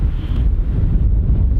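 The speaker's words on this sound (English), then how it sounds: "With how windy it is, right?" Strong gusts blow across a golf course and buffet the microphone. The result is a loud, continuous low roar with no other distinct sounds.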